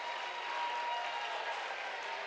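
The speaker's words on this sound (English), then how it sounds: "This Mayville crowd is ridiculous. They traveled, they are loud, and they are helping their team right now." A traveling Mayville crowd at a volleyball match applauds and cheers loudly and steadily, heard from some distance as a dense wash of clapping.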